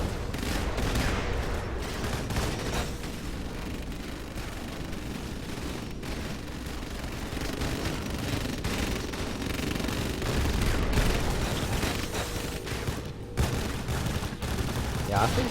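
An artillery bombardment in the real-time strategy game Rise of the Reds, a dense, continuous rumble of booms and rapid gunfire that stays loud and unbroken throughout.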